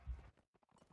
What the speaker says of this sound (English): There's a horse here, there's a horse.